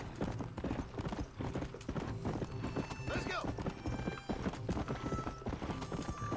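Horse hooves clip-clop at a steady trotting pace in Red Dead Redemption, rhythmic hoof strikes continuing throughout with a brief whinny-like sound, while someone talks over them.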